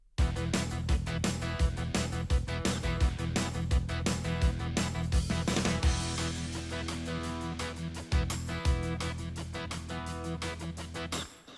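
Full Korg PA5 arranger-keyboard style accompaniment plays on its own: steady drums and bass under layered chords, a busy, even groove throughout with no talking.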